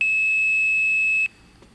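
A single steady high-pitched blue box tone played down a phone trunk line sounds continuously for over a second, then cuts off abruptly, leaving faint background noise.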